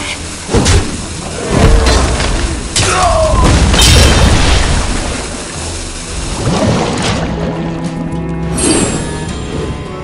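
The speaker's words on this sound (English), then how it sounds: "Barrel thrown. Explosion. Predictable." A barrel explodes in a video game with a loud, deep boom, followed by rumbling debris and scattered crashes that fade over several seconds, with no talking.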